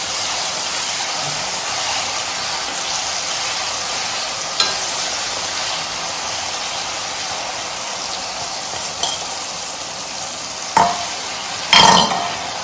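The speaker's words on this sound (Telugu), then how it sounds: "దీంట్లో చింతపండుని ఇలా వేసి ఉడికించుకోవాలి" Tamarind cooking in hot oil for a bitter gourd pickle gives a steady, close sizzle and bubbling throughout, with a few sharp clinks of a spoon or utensil against the pan near the end.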